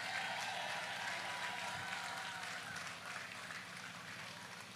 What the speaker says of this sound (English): Let's give this country a lusty round of applause